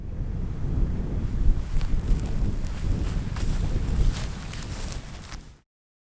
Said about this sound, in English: The wind's really starting to pick up now